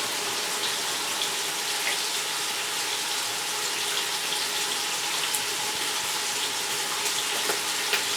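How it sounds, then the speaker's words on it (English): Steady rush of tap water running into a kitchen sink while hands are washed, a constant close splashing hiss with small irregular drips and spatters throughout. "Now I can just wash my hands."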